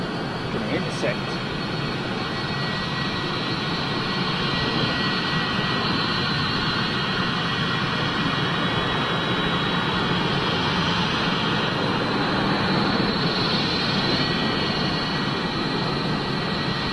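A big jet airliner's engines roar steadily and loudly throughout, with a constant broadband rush and no pauses.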